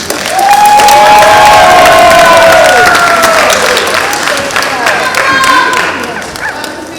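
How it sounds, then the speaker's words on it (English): A graduation ceremony crowd bursts into loud applause mixed with whoops and high-pitched cheers, a full, close wash of sound that swells quickly and tapers slightly toward the end. "give them a round of applause for supporting you"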